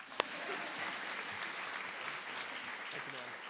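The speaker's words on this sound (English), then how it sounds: "Keep clapping for him." Audience applause fills a school district spring orchestra concert hall: steady, dense clapping from a large crowd that holds evenly throughout, with one sharp louder clap near the start.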